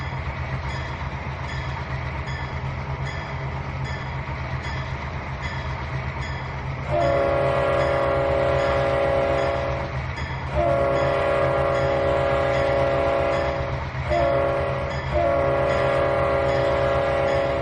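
Diesel locomotives, a GP38 leading with an SD40 added, rumble steadily in the Trainz 2019 rail simulator, then a loud multi-tone horn sounds in repeated long and short blasts over the engine drone.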